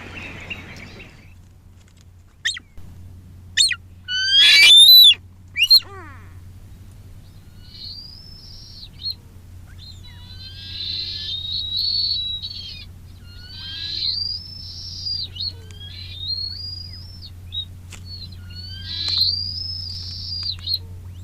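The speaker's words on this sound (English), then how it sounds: "We had a lot of Tahiti petrels flying over. They've got a sort of shrieking, almost like a little velociraptor call." Tahiti petrels flying over at night in American Samoa, giving a series of shrill, rising, chattering shrieks in repeated bursts, fairly clear against a quiet dark background with a low hum and a few sharp knocks near the start.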